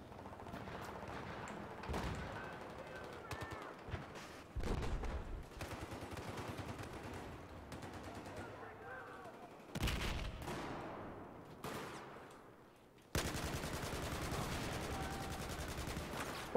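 Bursts of rapid gunfire from Battlefield 4 multiplayer, with repeated automatic volleys and sharp shots, loud and close, ending in a sustained dense stretch of firing.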